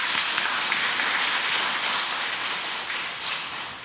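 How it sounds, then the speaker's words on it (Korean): Audience applauding in a lecture hall after a Legio Mariae members' education talk, a steady dense wash of many hands clapping that holds evenly for several seconds and tapers slightly at the end. "열정적인 강의를 해주신 단장님께 다시 한번 큰 박수 부탁드립니다"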